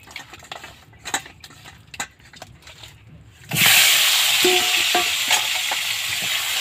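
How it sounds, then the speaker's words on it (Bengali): After a few quiet clinks of utensils, fish rubbed with salt and turmeric drops into hot oil in a kadai and bursts into loud, continuous sizzling frying that holds steady to the end. "এবার মাছটা আমি ভেজে নেব।"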